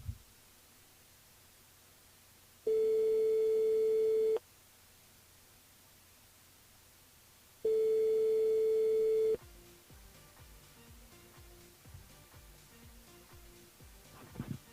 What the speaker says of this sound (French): On appelle Anaïs sur le standard de l'émission.